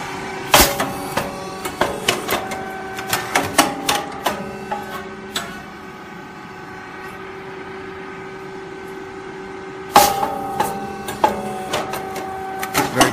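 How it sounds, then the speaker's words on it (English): A compact candy-making machine starts up again with sharp, rhythmic mechanical clacks and whirring over a steady hum, pausing briefly in the middle before the clattering cycle resumes. "touch the sensor, the machine is moving again"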